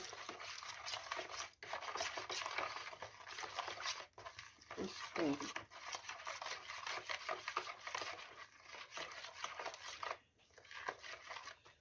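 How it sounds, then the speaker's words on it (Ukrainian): Pumpkin bread mixture with grated pumpkin being stirred in a bowl, a steady scraping and rubbing that continues for several seconds, close and moderately loud. "Розмішуємо це все."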